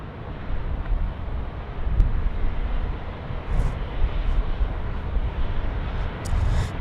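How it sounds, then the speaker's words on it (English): A Singapore Airlines jet taxiing at Sydney Airport produces a low, rumbling engine drone at a distance, steady and broad, roughened by wind buffeting on the microphone. "Singapore 212 now is coming out to play. They're taxiing on Alpha"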